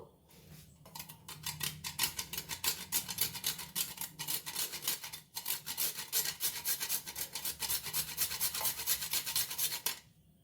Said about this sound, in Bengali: আর সেই সঙ্গে আমি একটু জায়ফল ঘষে দিয়ে দেবো